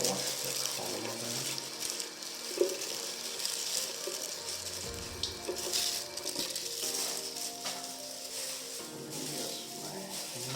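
Tap water runs into a sink while a hair comb is rinsed, a steady close splashing with small clinks and knocks, and faint talk drifting over it.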